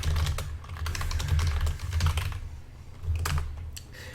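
Quick clattering keystrokes on a computer keyboard come in close, irregular bursts with short pauses, over a low steady hum, with no talking.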